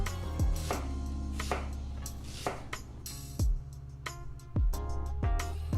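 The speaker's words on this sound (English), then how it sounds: "chop up the whole onion" A knife chops through an onion on a cutting board, a series of sharp, irregularly spaced knocks close up, each a crisp thud with a short ring, alone without talk.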